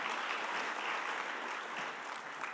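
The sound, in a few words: audience applause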